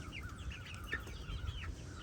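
Rhode Island Red hens and a rooster clucking softly in the background, a few quiet bird calls over low farmyard ambience.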